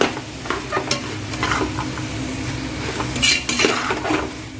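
Vegetable biryani masala sautés in a pan, with a soft sizzle under repeated clinking and scraping of a metal spoon against the pan, busy and close.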